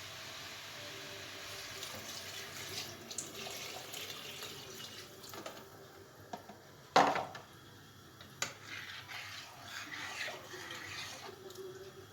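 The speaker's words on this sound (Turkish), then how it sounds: "Şimdi suyunu ekleyeceğim." Water pours from a tap into a pot for Turkish spinach and lentil soup, a soft continuous splashing with a brief louder gush midway, close by in a kitchen.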